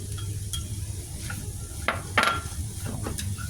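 Leftover vegetables being stirred into instant noodles in a pot, with soft scraping and a few sharp utensil clinks against the pot, close and moderately quiet over a low background hum.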